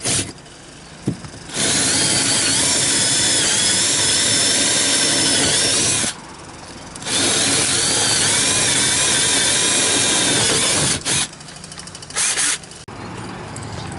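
A power drill runs loudly in two sustained bursts of several seconds each while installing hydraulic steering, whining steadily, with short quiet gaps and a few brief spurts at the end.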